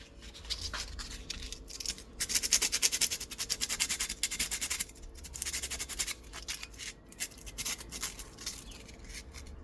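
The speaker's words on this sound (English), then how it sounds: "We'll just give that a quick sand so we have no sharp bits." Quick hand sanding of a drilled Irish penny to smooth its sharp edges, a close, steady scratchy rasp in uneven strokes with brief pauses between bursts.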